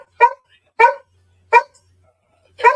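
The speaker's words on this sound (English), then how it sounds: "let's just let the dog just do what he's going to do" A dog barks four times, sharp single barks spaced roughly evenly apart with quiet between them, close and loud.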